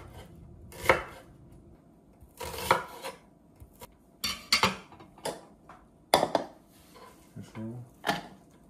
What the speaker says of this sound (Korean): 양파는 최대한 얇게 썰어 줍니다.